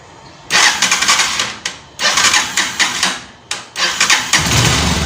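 A motorcycle with a flooded carburetor cranks repeatedly in loud, close bursts, catching and revving with each attempt before settling into a steady running idle.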